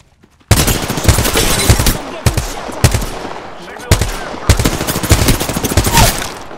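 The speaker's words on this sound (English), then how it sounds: "I'm getting shot at" Rapid bursts of gunfire in the video game Apex Legends, loud and close, coming in several clustered volleys with brief gaps between them.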